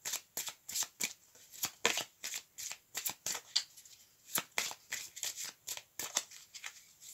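Oracle cards shuffled by hand in a steady series of close, crisp riffling bursts, each a short papery rustle separated by brief pauses. No one speaks.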